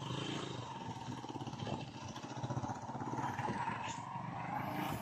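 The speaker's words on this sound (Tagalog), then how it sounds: "Yung motor ko. Kahit saan nakakarating." A motorcycle engine runs steadily near a large river at Garay in San Mariano, with a continuous low mechanical drone and some clatter at moderate loudness.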